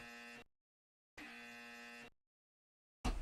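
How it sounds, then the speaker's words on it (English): A buzzer sounding in two flat, steady electronic blasts separated by a short silence, each about a second long, fairly loud and alone. "You're right, loud and correct buzzer"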